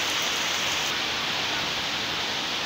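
Steady rain pours down during a storm after a spell of intense heat, a dense, even hiss filling the whole stretch without pause, loud and close.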